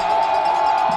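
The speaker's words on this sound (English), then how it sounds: "The crowd really getting into it right now." Home football crowd at an Indiana University of Pennsylvania (IUP) college game against California, a steady roar of cheering and shouting from many people in the stands, sustained throughout the brief moment.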